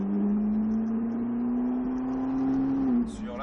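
A Ferrari F340 accelerating on a cone course: a steady engine hum that climbs slowly in pitch for about three seconds, then cuts off abruptly, heard from inside the car without talk.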